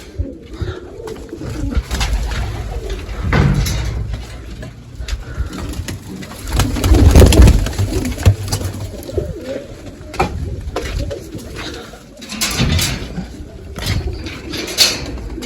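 Pigeons coo repeatedly at close range, low soft calls overlapping, with occasional wing flutters and scraping sounds in between.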